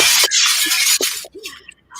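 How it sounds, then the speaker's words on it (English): Glass shatters in a loud, bright crash with scattered tinkling fragments falling afterward and trailing off into quiet. "I just love the sound of shattering glass."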